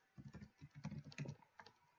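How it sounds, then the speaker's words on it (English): Rapid keystrokes clatter on a computer keyboard in an uneven burst of clicks, close up, with no voices. "Sorry for my typing errors."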